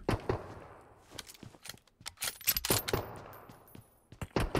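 Battle royale video game gunfire, including sniper rifles, sounds as scattered sharp shots and short volleys at moderate loudness, irregularly spaced with a couple of brief lulls between them.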